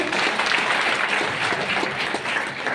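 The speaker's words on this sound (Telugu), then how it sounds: "ఒకసారి గట్టిగా చప్పట్లు అందరికీ." Group applause from participants on an early-morning Zoom training call, a continuous rough patter of clapping at moderate level, steady and unbroken for the whole stretch.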